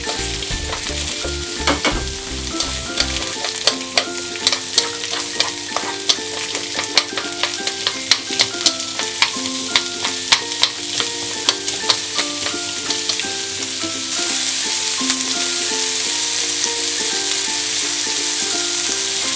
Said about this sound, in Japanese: フライパンに火をつけてラードを熱します。 強火で玉ねぎ入れます。